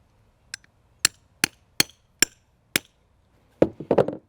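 Six sharp, evenly spaced strikes of a chisel being driven into a tree trunk to cut a bridge graft for vole damage, close and clear, ending in a burst of louder scraping, rustling cuts.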